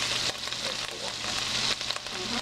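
Frozen shrimp sizzle in a hot pan with plenty of garlic, a steady, close, hissing fry that stays loud and even throughout.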